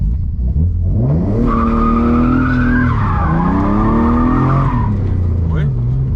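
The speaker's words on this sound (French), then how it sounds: "Ça a bien bloqué, la voiture est bien partie." A BMW E36 with a newly fitted locking differential accelerates hard on a small patch, its tires skidding and squealing loudly while the engine revs climb, then fall and rise again.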